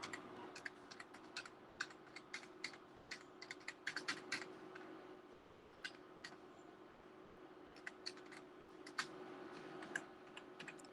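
Keys on a computer keyboard clatter in quick irregular bursts as text is retyped into an MS Word 2013 document, fairly close and quiet, with short pauses between runs and no talking.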